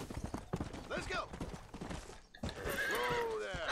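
In Red Dead Redemption, hooves clop in quick rhythm, then a horse lets out a loud whinny over ongoing hoofbeats; a voice speaks briefly under the sounds.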